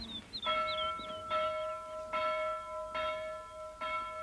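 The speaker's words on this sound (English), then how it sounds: "Who pulls the town hall bell rope but blind Captain Cat?" A town hall bell rung by rope sounds in slow, evenly spaced strokes, about five clear ringing peals with long overtones that hang between hits, while birdsong chirps faintly at the start.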